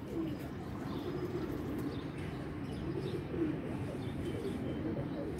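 Pigeons coo softly in a close, quiet space, with repeated low throaty calls rising and falling over a faint background murmur.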